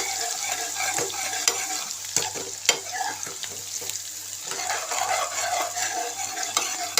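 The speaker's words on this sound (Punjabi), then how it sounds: "ਹੁਣ ਆਪਾਂ ਇਹਨਾਂ ਨੂੰ ਮਿਕਸ ਕਰਾਂਗੇ" Kalmi saag being stirred in a pan with crushed garlic and ginger, with soft sizzling under repeated sharp clicks and scrapes of a spatula against the pan, close and moderately loud, no talk.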